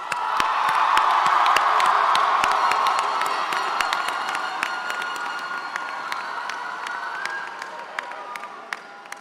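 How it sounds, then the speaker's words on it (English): A large graduation crowd in a high school ceremony bursts into sustained applause and cheering with whoops for the graduating class of 2026, loud and dense at first, then gradually thinning while clapping continues to the end. "let's give the class of 2026 one more round of applause"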